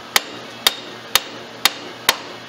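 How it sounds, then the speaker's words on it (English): A hammer raps on a rusted rear brake bleeder screw of a 1996 Polaris Sportsman ATV, five sharp metallic taps spaced evenly about half a second apart, loud and close over faint background hum. "What I like to do is you wrap on it with a hammer a couple times."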